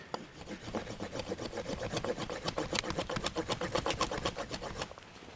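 Harbor Freight survival knife's saw edge rasping against wood in steady rapid back-and-forth strokes, close and continuous for several seconds, alone.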